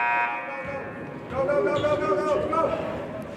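A basketball buzzer sounds at halftime of a high school game, a loud sustained tone in the first second over crowd noise, followed by the commentator's voice and arena chatter.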